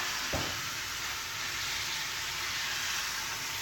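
Burgers fry in hot grease just after being flipped, giving a steady, close hiss and crackle that runs without a break, opened by a brief low thump.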